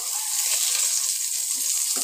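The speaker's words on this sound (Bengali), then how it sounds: "দেখো, বেগুনগুলো আমি তেলের মধ্যে দিয়ে দিয়েছি এক পিঠ। এবার আমি উল্টে দিচ্ছি।" Eggplant (brinjal) slices frying in a little oil, being turned over: a steady, loud hiss of sizzling throughout, with a couple of soft scraping knocks as the slices are flipped.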